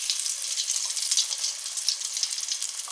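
Steady crackling sizzle of a chicken bomb deep frying in 350-degree oil, a dense bubbling hiss that stays even and close throughout with no voices.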